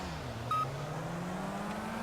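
Race car engines in the Project CARS video game drone steadily at the start of a race, a low rising engine tone with a short electronic beep near the beginning and no talking.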